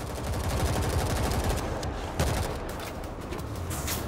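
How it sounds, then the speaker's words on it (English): Gunfire bursts in the zombie shooter video game World War Z, heard as rapid crackling volleys in a multiplayer match, with a sharp loud shot partway through and no speech. "Oh crap, somebody just shot me."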